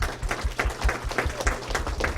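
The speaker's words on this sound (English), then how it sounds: "a round of applause for everybody here and at home" Applause at a cosmetology advisory board meeting, a roomful of attendees clapping steadily with a low hum beneath, moderately loud and unbroken, no talking over it.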